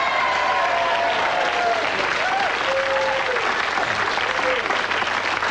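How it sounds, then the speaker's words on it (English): Steady, dense applause from a large television studio audience fills the whole stretch, loud and continuous, with some faint voices and tonal sounds mixed underneath. "Give them a round of applause."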